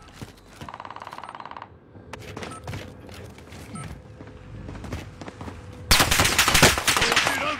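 Automatic gunfire in the video game Warzone rattles in quick bursts amid game sounds, building to a loud, dense volley near the end, with a player's voice briefly heard.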